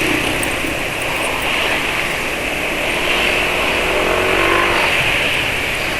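A Honda PCX 160 scooter engine idling, then revved, a steady close drone that swells slightly toward the end, with no talking.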